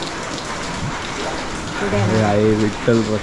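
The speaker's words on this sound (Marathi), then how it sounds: "मस्त सकाळी चालू झालेला आहे पाऊस" Morning rain falling in Konkan gives a steady, soft patter and hiss throughout, with someone speaking over it toward the end.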